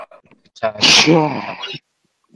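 A single loud human sneeze, a sharp inhale building into a forceful burst, close to the microphone, set between brief bits of speech and followed by silence.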